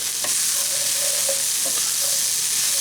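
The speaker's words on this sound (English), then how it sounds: "I've been stirring it here." Peas cooking in a pan for a corned beef pasty filling are stirred, a steady close sizzle of frying broken by a few soft scrapes and knocks of the spoon against the pan, with no talking.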